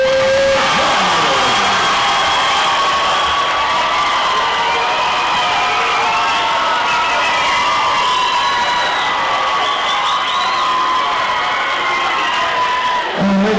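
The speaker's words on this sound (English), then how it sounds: "ladies and gentlemen, round of applause for Mandy Cortez" A crowd at a boxing match cheers, whoops and claps after a bantamweight championship decision, a loud, continuous roar of voices with whistles and shouts layered over steady applause.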